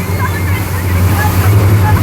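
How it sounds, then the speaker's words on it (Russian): A small excursion boat's engine hums steadily as the hull slaps and bounces over big sea waves, with spray and wind noise and faint voices in the background. "Волны большие, поэтому мы скачем на них прилично."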